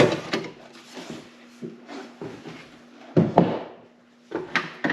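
A wooden drawer slides out of a cabinet during a drawer-slide installation, giving several scraping, knocking bursts of wood on runners with thuds and a steady faint hum underneath.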